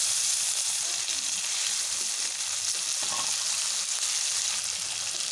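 Chopped onions sizzle and fry steadily in hot oil with turmeric for an onion egg curry, a dense continuous crackle with faint stirring, close and even throughout.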